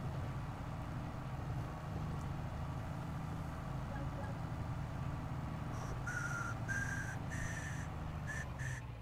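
A person whistles a tune in a few sustained, wavering notes that start about two-thirds of the way in, over a steady background hum from a farming game.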